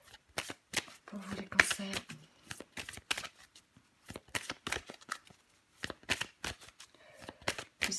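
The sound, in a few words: shuffling and drawing tarot cards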